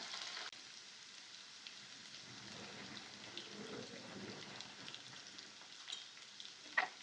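Ground masala with garlic fries in a pan with a quiet, steady sizzle and occasional stirring sounds, ending in a brief sharp clink.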